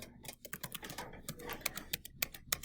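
Quick, close keystrokes clatter on a computer keyboard in an irregular stream of light taps, quiet and alone with no voices over them.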